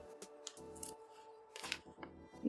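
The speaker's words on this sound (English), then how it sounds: "We cut off the excess" Scissors snip off excess craft material in a few quick, close cuts separated by short pauses, quiet and distinct.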